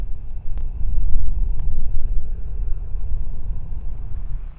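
A vehicle approaching on Kansas public land, a low, steady engine rumble close by and fairly loud, holding its level throughout with faint outdoor noise.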